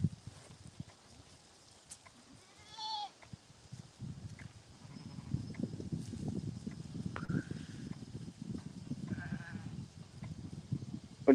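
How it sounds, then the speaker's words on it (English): Hair sheep grazing with goats in a farm field, giving a few short bleats at moderate distance over a steady rustle of chewing and movement in the grass. "The sheep I have are actually hair sheep, so they are supposed to shed their wool."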